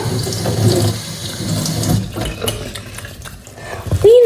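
Cucumbers are washed under a running kitchen tap, a steady close stream of water splashing over the vegetables and into the sink, loud and continuous, its flow shifting as the cucumbers move through it.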